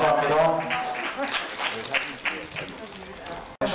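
Applause from a temple audience at a scholarship certificate ceremony, a dense burst of clapping that gradually thins, with voices speaking over it and a sharp knock at the end.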